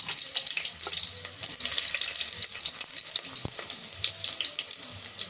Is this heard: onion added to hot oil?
yes